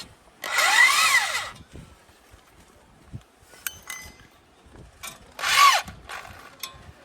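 A nut and bolt tightened on the mounting bracket of a DTH satellite dish antenna: two short, close whirring mechanical bursts with metallic clicks and light knocks between them, no talk.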